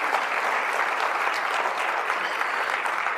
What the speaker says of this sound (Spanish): Den un fuerte aplauso a Él